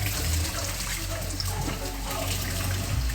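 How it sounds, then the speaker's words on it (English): Cold tap water runs steadily over raw red meat in a kitchen sink, a continuous close splashing flow with no talking. "now we're gonna wash it with cold water"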